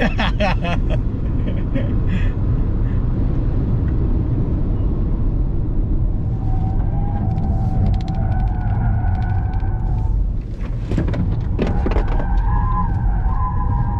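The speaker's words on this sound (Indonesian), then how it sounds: "Langsung understeer begitu digas kan?" Car on newly laid asphalt at Sentul circuit, understeering under throttle, with a loud, steady engine and road rumble from inside the cabin and faint tire squeal toward the end, while people talk over it.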